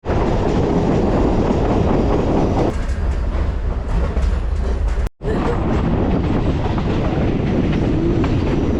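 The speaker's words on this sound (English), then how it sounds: "take a trip from Nairobi to Nyahururu in a train that came back after 46 years" Passenger train on the restored Nairobi to Nyahururu line in Kenya, heard from on board as a loud, continuous rail rumble with a rhythmic wheel clatter and a momentary dropout partway through.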